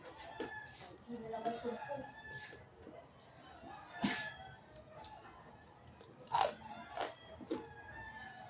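Someone bites and chews crunchy food close to the mic, with several distinct crisp crunches and bites spaced out over a quiet background, and soft talk occasionally in between.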